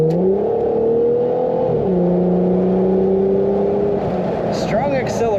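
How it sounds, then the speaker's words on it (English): A 2000 Plymouth Prowler with an exotic-sounding exhaust accelerating, a loud, close engine drone that rises in pitch, drops at a gear change and climbs again, with brief higher whines near the end. "This car has kind of an exotic exhaust note."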